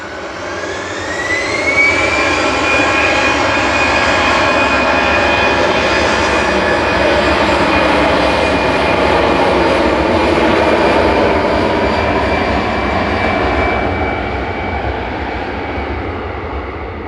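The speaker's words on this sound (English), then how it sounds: "Departing in front of us now is EasyJet to Faro with flight 7502." An EasyJet airliner departing Manchester Airport on its way to Faro roars steadily as its jet engines spool up with a rising whine, loud and sustained before easing slightly at the end, heard from nearby with no talk.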